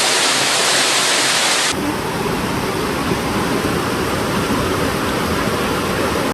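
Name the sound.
floodwater rushing through streets after heavy rain in Samsun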